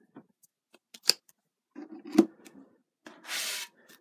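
An oracle card is flipped over and handled up close: a few soft taps and clicks, a brief papery scrape, then a short swishing slide of card stock, with no voices.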